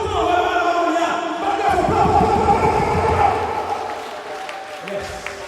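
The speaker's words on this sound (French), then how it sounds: "on va applaudir chiche pour ça" Audience applause at an 80th birthday celebration, a crowd clapping continuously over several seconds with voices mixed in, gradually fading toward the end.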